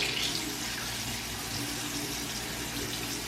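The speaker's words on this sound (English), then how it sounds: "I'm gonna rinse my sponge, not gonna clean it right now." A makeup sponge rinsed under a running tap, a steady close hiss of water splashing continuously without pause.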